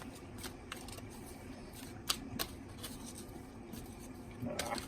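Tarot cards being shuffled by hand, with soft scattered riffles and taps, a few sharper snaps and a brief louder flurry near the end, faint and close. No one speaks.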